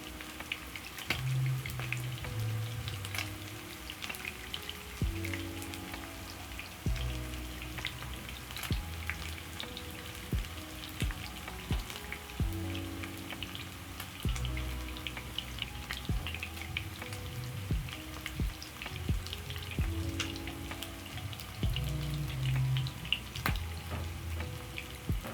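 Honey garlic sauce thickened with cornstarch simmers in a pan for beef meatballs, making a continuous soft bubbling and sizzling with scattered pops and low rumbles.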